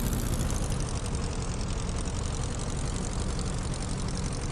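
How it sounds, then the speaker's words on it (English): A Piper J3 Cub propeller engine in Microsoft Flight Simulator 2024 idles steadily with a dense, even drone and low rumble, continuous and close with no voices. "when I cut the power, the engine sounds about right"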